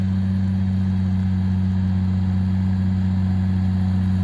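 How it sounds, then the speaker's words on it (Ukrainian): A tractor pulls a Lemken Onyx 8F subsoiler through a field at 30 cm depth in the rain, its engine holding a loud, steady, close drone with no change in pitch and no talk. "Трактор їде"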